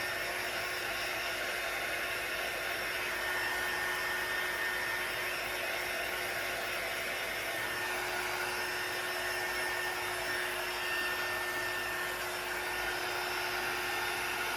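A hair dryer blows steadily and evenly at close range for the whole stretch, drying chalk paste on a transfer laid over a brick, with no talking.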